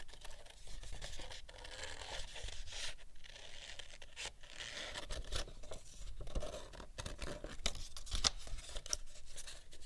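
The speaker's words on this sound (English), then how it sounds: "Guide your scissors around the edge of that line and cut slowly." Scissors snip slowly through paper for a mosaic art project, giving close, irregular crisp cuts and rustles that run continuously with no talking.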